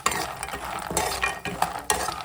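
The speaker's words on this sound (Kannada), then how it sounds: "ಆಲ್ಮಂಡನ್ನ ಚೆನ್ನಾಗಿ ರೋಸ್ಟ್ ಮಾಡ್ಕೊತಿದ್ದೀನಿ ನೋಡಿ" Almonds being stirred and roasted in a pan for dry-fruit laddu, with a steady light sizzle and repeated scraping stirs about every half second, close and alone with no talking.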